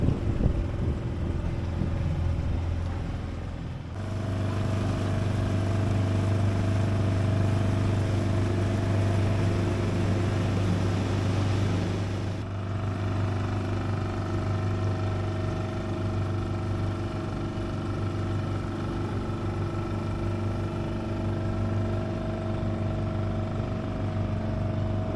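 A boat's engine idles while the vessel cruises at nearly 5 knots, giving a steady low hum with wind and water noise throughout, louder for a stretch early on and then settling back.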